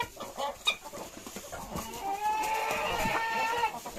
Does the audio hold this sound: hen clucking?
yes